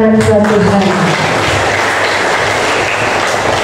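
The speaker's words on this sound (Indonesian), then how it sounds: "Kita berikan tepuk tangan buat Tuhan." A church congregation at a Javanese Christian service claps together, loud and dense, fading into a sustained roar of applause while a voice briefly speaks over it at the start.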